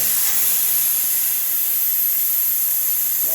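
Steady, loud hiss of a plasma cutter working on a tractor blade, a continuous bright rushing noise with no pauses and no talk over it.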